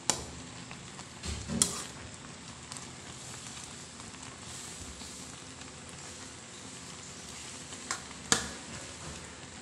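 A pot of jackfruit simmers with a soft steady bubbling, punctuated by a few sharp scraping clinks of a spoon stirring against the pot.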